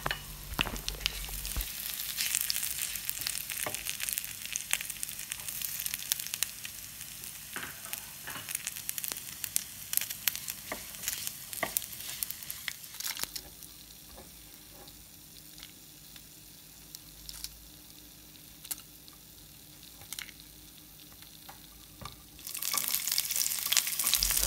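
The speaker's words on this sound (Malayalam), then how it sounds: "ആ വെളിച്ചെണ്ണയിൽ തന്നെ നമുക്ക് ഉണക്ക ചെമ്മീൻ വറുത്തെടുക്കാം" Dried shrimp fry in coconut oil with a steady crackling sizzle, louder at first and then settling lower, with occasional stirring clinks, a brief water-like hiss and no voices.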